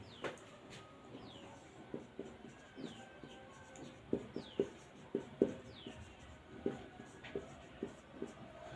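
Pen writing down a maths question on paper: a series of scratchy strokes and taps, close and fairly quiet, in an irregular rhythm.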